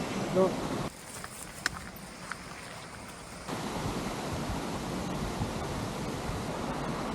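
The Little Yad waterfall in Mapsie Den on the Falkland estate in Scotland gives off a steady rushing hiss of falling water, fairly close and continuous, briefly muffled partway through, with no voices.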